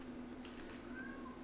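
A house cat crying indoors to go outside while snow falls, a faint, high meow drifting over low room hum.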